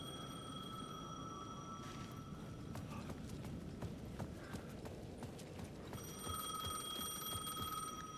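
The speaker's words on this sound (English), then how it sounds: "The payphone at the edge of the plaza was ringing again." A payphone rings in Alan Wake 2 with two bursts of trilling bell, the first early on and the second in the last seconds, over a low rumbling ambience and no talk.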